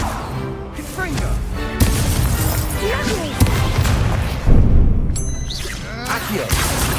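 Fiery spell blasts in a Hogwarts Legacy duel burst as heavy crashes and whooshing impacts, several loud hits in quick succession, mixed with game sounds and a player's voice.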